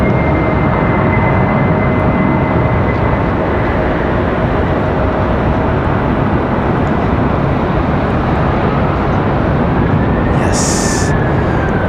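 A Delta airliner lands at Raleigh Durham airport with a loud, steady engine roar and rushing noise, a thin tonal whine running through it, sustained close and strong for the whole stretch.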